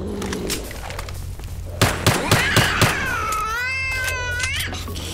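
A cat in the video game STALKER: Shadow of Chernobyl yowls and meows loudly, following a quick run of five sharp shots or thuds, with a steady game background hum throughout.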